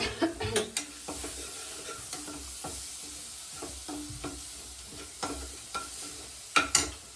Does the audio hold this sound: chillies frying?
yes